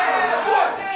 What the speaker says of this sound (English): That's the Aftrbrn faithful trying to cheer on Kid Neon.